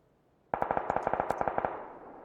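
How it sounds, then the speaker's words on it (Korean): A rapid burst of automatic gunfire in the video game PUBG: Battlegrounds, about fifteen evenly spaced shots, loud and close, ending with a short fading echo. "여기 능선 아래께 이쪽에서 총소리가 나는 것 같은데"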